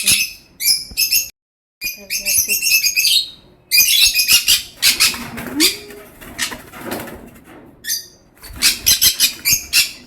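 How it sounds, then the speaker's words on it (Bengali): Pet birds kept at home chirping in rapid, bright bursts that start and stop repeatedly, fairly close and loud, with short pauses between flurries. "আমাদের বাড়ির পাখি কিচমিচ কিচমিচ আওয়াজ হচ্ছে"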